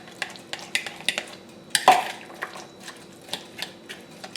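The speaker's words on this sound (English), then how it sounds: "Mix it all around." A grinder salad mixed with salt and minced garlic, heard as close, irregular clinks and scrapes of a utensil against a bowl, with one louder clatter partway through.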